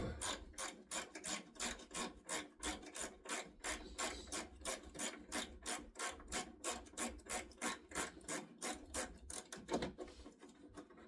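Bumper screws or bolts are loosened on a 2007 Saab 9-3 Anniversary Edition with a steady, rhythmic rasping and clicking, like a ratchet being worked back and forth. It repeats quickly and evenly at low volume with no talking.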